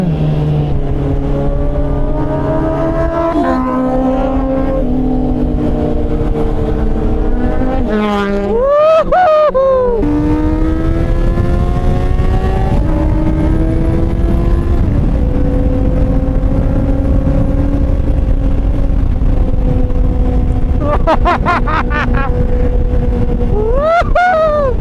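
A Honda CB650 motorcycle with an aftermarket exhaust and reflashed tune runs with a steady droning engine note, broken by sharp rising revs about a third of the way in and again near the end.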